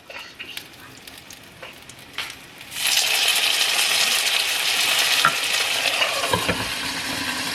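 Gyoza frying in a pan with the lid put on: a few light clatters at first, then a sudden loud, steady sizzle that keeps hissing continuously to the end.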